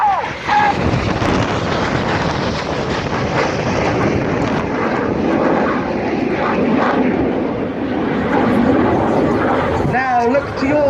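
Red Arrows display jets fly a formation routine at the 2016 Yeovilton air day, their engines making a loud, steady, broad roar that fills the whole stretch, with a voice talking over it.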